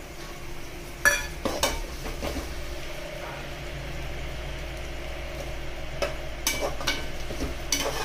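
Tomatoes cook in a pan for kadhi over low heat, a soft steady sizzle broken by several sharp scrapes and clinks of a spoon stirring against the pan.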